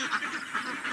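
Domestic ducks on a duck farm quack in a steady, overlapping chorus, several birds calling at once in repeated pulses, fairly close and moderately loud with no talking.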